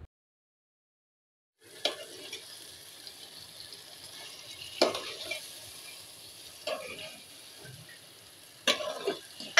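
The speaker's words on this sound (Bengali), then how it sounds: "মাংসটাকে খুব ভালোভাবে কষিয়ে নিতে হবে" Mutton being stir-fried in a pot, with a faint steady sizzle and a few sharp scraping stirs against the pot bottom at irregular intervals, quiet and close.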